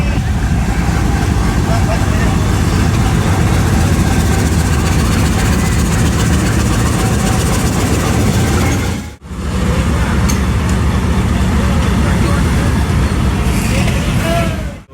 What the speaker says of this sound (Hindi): और अभी इंजन ये ऊपर जाएगा, फिर वहाँ से बैक होके वापस लगेगा।